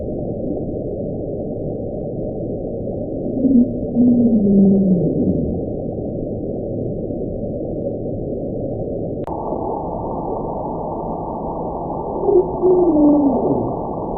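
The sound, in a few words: underwater iceberg cracking hydrophone recording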